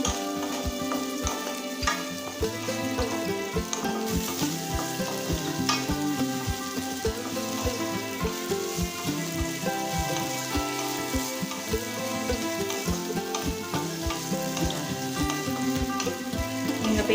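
Small onions (shallots) sizzle steadily as they sauté in a pan for onion chutney, a continuous crackling fry under tonal background music.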